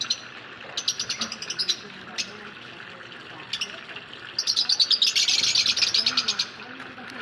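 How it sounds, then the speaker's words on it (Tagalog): Small birds chirp in quick repeated bursts, growing busier and louder toward the end, with a soft coo and quiet background murmur. "Ganda ng mga ibon"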